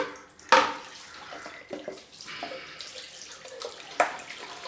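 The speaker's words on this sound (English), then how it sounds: "Let's just wet the brush down." Tap water running while a shaving brush is wetted, soft splashing with a couple of sharper splashes, close and quiet.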